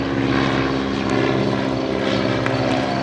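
A propeller-driven fixed-wing airplane drones steadily overhead at an air show jamboree, a loud continuous engine hum with strong low harmonics holding level throughout, no talk.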